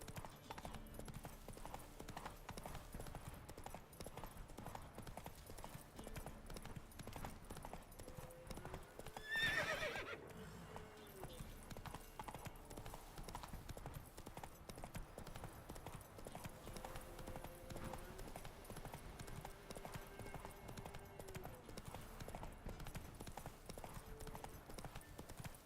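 Roach the horse galloping in The Witcher 3, a rapid, continuous drumming of hooves with one loud neigh partway through, kept at a low level throughout.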